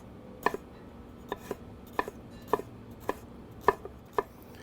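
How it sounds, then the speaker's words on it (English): A knife rough-chopping peeled hatch chili on a board, with about a dozen crisp, fairly quiet taps coming in uneven pairs and singles, with no voice over them. "Just give this a little bit of a rough chop here."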